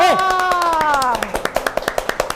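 An audience at a podcast recording claps in quick, sharp, rhythmic bursts after a voice, the claps sounding close and distinct.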